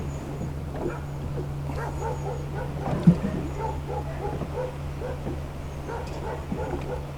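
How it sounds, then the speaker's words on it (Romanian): Several dogs from a nearby farm bark in scattered, repeated bursts at a moderate distance outdoors by Danube marshland, with a low steady hum beneath and one sharper thump midway. "S-au trezit și niște câini în spatele meu de la o fermă de aici."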